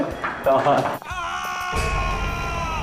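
Someone shouts and screams in distress in a tense indoor drama scene, a loud raw yell at first, followed by a sharp tonal sound and lingering ringing.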